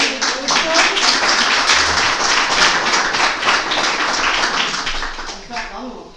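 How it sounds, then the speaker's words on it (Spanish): An audience in a hall applauds a girl after her speech, with dense, steady clapping that fills the whole stretch at a loud, even level. "un aplauso aquí para la niña"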